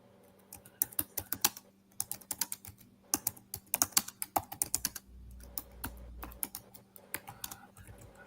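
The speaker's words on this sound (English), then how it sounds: "I'm literally typing into the search engine" Quiet, close keystrokes on a computer keyboard come in quick bursts and short pauses as a search query is typed, the clicks light and uneven with a faint hum beneath.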